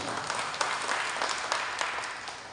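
Audience applause at a Navratri festival celebration, a steady wash of many hands clapping at moderate distance, continuous and even with a few sharper claps standing out, no talking.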